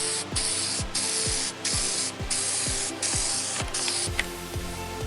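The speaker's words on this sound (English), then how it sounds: "now we're applying a second coat of primer" A second coat of primer is sprayed onto a car part in a run of short, hissing bursts of roughly even length, separated by brief gaps, loud and close.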